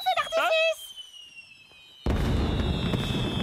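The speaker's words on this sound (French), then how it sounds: "Nous allons fêter votre victoire avec de bons feux d'artifice!" Fireworks burst from 2 s onward in a One Piece animated film scene, a loud sustained crackling roar that follows a stretch of speech and a high whistling tone.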